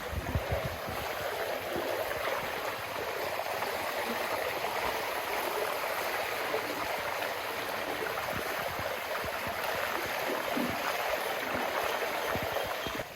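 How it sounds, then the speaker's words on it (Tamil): Floodwater flows through a flooded village in Jaffna during a storm as rain falls, making a continuous loud rushing wash that stays steady and dense throughout with no speech. "ஃபுல்லாகவே தண்ணி தான் இங்கே திருப்பி மழை தொடங்கிட்டு"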